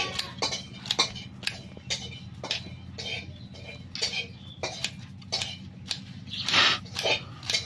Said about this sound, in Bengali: আমরা এবার পেঁয়াজগুলো কেটে নেবো।